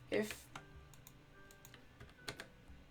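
Someone types code on a computer keyboard, a few sharp clicks and scattered keystrokes, fairly quiet, with a voice talking over part of it.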